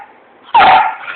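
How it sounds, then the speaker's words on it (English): A house dog that demands attention gives one sharp, loud bark close to the listener, cutting through a quiet room with a faint hum. "He's kind of one of them dogs that demands all your attention all the time."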